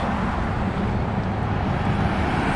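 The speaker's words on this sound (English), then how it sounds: "You'll have to forgive all the traffic noise." Steady traffic noise on the Perrine Bridge, a dense continuous roar of passing cars with some wind rumble, loud and unbroken throughout.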